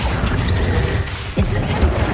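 Spell effects from combat in the video game Hogwarts Legacy: a dense, continuous wash of magical booms and crackling bursts, with a sharper impact near the middle, loud and busy throughout.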